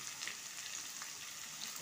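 Onions, capsicum, green chilli, carrot, beet and beans fry in a pan for road-style veg chowmein, giving a soft, steady sizzle with faint stirring scrapes and no voices.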